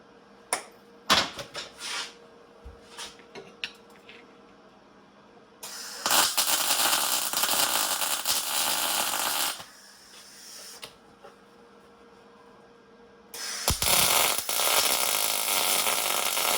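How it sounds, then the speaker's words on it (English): Tack welds are laid on a fabricated bearing press for an XT500 restoration: two long, loud bursts of crackling welding arc separated by quieter stretches of clicks and taps. "I'm going to put in a couple heavier tacks. And then get to welding them."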